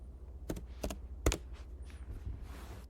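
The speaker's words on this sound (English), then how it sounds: "and type in my code" A handful of crisp computer keyboard taps entering a code, three distinct clicks in quick succession then a few softer ones, close and quiet in an otherwise still room.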